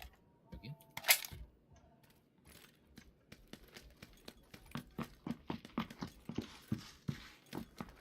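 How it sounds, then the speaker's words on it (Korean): Footsteps in a battle royale video game, a steady run of soft, fairly quiet thuds that quickens and grows denser toward the end after a sharper clink near the start. "또 왔다 발소리"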